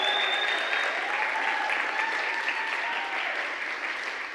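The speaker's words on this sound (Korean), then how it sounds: "큰 박수" A congregation claps warmly at a Sunday church service, a steady wash of hands that holds for several seconds and eases slightly toward the end, with a faint voice tone drifting over it.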